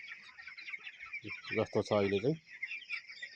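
Young chicks around 28 days old on a poultry farm give soft clucking calls against a steady high chirping background, with a short stretch of speech over them partway through.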